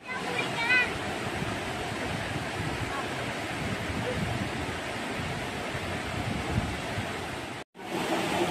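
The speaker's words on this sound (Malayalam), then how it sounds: "ആ മോളിൽ നിന്ന് ഇറങ്ങി വരുന്ന വെള്ളം താഴെ ഇതാണ്ടോ ഇങ്ങനെ വന്നിട്ട് താഴോട്ട് ഇറങ്ങി ഇവിടെ വന്ന് പതിക്കും." Water pours steadily down Seethar Kund waterfall near Kollengode, Kerala, as a dense, constant roar that fills the scene and then cuts out briefly for a moment near the end.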